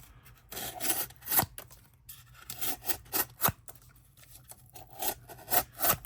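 A Stang Blade Works Boardwalk knife cutting with force, a series of rough rasping, rubbing strokes in bursts, each ending in a sharp snap, close and fairly quiet with pauses between cuts.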